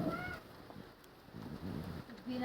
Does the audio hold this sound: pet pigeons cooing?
yes